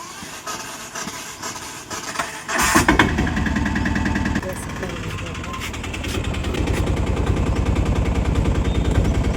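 An auto rickshaw engine cranks and catches, then settles into a loud, rapid chugging idle close by, its steady putter continuing to the end.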